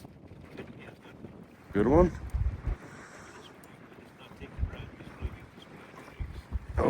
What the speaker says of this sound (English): This wind is just pushing the boat really bad.